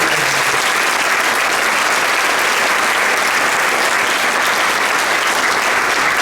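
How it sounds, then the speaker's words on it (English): An audience at an International Holocaust Remembrance Day event in Tampa gives loud, dense, continuous applause for visiting consuls general, an unbroken wash of clapping with no talk. "Let's give them a big applause."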